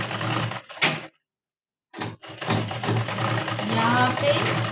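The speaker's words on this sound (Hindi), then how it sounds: "तो यहाँ से सबसे पहले सिलाई करेंगे।" Sewing machine stitching a straight seam on blouse fabric with a folded half-inch hem, running in loud bursts with a brief pause, while a voice talks over it.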